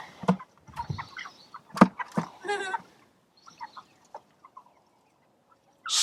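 A big cockerel on a chicken farm clucks in short, close bursts with brief pauses between them, ending with a sudden louder noise.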